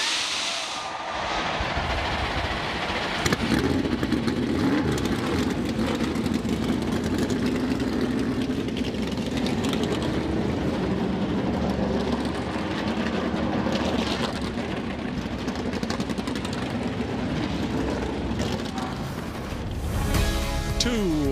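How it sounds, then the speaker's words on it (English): A field of Daytona 500 stock cars fires up and idles together at the speedway, a dense, continuous engine roar that stays loud and steady throughout, with crowd noise and a voice faintly underneath. "Drivers, start your engines!"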